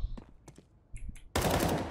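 Rapid automatic gunfire from Counter-Strike 2, sprayed while the player walks, a loud dense burst in the final half-second after quieter footsteps and clicks.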